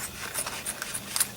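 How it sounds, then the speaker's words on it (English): Scissors snip at shaker card material with one edge already fused and a sticky surface, producing faint, close, irregular crisp cuts and scrapes. "my scissors don't want to cut this very well"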